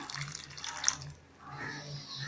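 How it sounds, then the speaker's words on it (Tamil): Water runs and splashes briefly into a cooking pan of goat spleen gravy, a steady pouring wash for about a second before tapering off into quiet room noise. "இது கூடவே கொஞ்சமாக தண்ணி சேர்த்துக்கலாம்."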